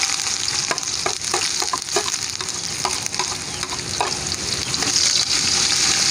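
Ginger fries in hot oil in a pan with a steady, loud sizzle and scattered sharp pops and crackles throughout, no voices.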